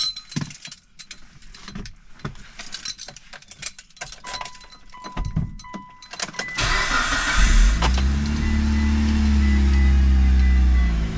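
A Mitsubishi Lancer Evolution IX cranks and fires up after an alternator replacement, settling into a loud, steady idle following a few seconds of key and cabin clatter.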